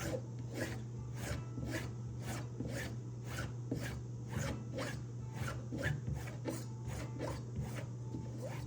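A straight razor stropped slowly on a strop, giving steady rhythmic rasping swipes about twice a second, each a bright zingy scrape over a constant low hum, close and even throughout.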